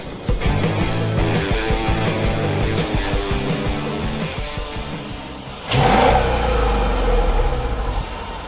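A Mercedes S500 car accelerating hard during an acceleration test, with a loud, steady engine roar that climbs through the gears and surges again after a brief shift, close and continuous with no talking.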